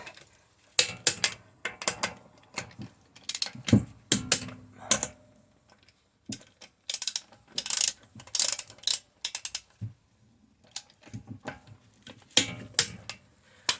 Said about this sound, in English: finish torquing off the each of the lug nuts when you're done